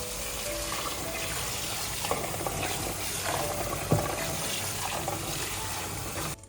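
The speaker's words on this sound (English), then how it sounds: "First, I'll rinse the blueberries thoroughly." Fresh blueberries being rinsed under running water, a steady close splashing and trickling of water continuing throughout, with a few light knocks and clinks in the background and no talking.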